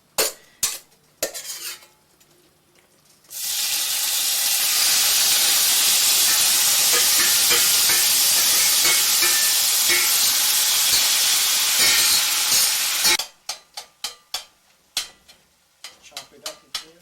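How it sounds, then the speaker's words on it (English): Chopped plant medicine, with its active ingredients already removed, frying in a pan: a steady loud hiss and sizzle lasting about ten seconds, bracketed by sharp clinks and scrapes of a utensil against the pan. "we put it in the frying pan and chop it up, and it'll be fried slightly"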